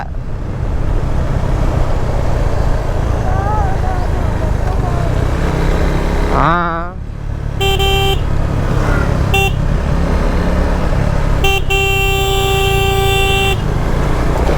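A motorcycle rider's horn honks on a highway near Mahabaleshwar and Lonavala: two long, steady blasts rise over loud, constant wind and engine roar, with a brief toot between them.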